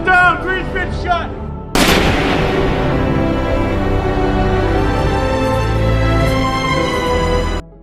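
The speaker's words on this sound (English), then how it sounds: "Fowler got up and immediately shot him" A single sharp gunshot in a film crime scene, a loud crack that cuts off a voice and gives way to a long, dense ringing roar of music and effects that fades abruptly at the end.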